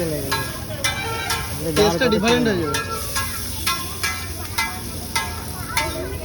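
Chopped onion and green chili hitting hot oil in a wok for street-style chow mein, loud sizzling with a spatula scraping and clattering in repeated strokes, and brief voices in between.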